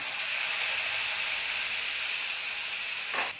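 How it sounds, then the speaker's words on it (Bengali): Ground spice paste hits hot oil with nigella seeds, giving a loud, dense, continuous sizzling hiss close up that holds steady and then cuts off abruptly near the end, with no talk. "আর কালো জিরে ফোড়ন দিলাম আর যে মশলাটা বেটে নিলাম ওই মশলাটা দিয়ে দিলাম"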